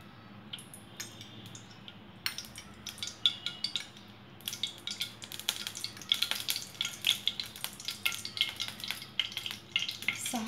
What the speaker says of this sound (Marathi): सहा चमचे तेल टाकलेलं आहे.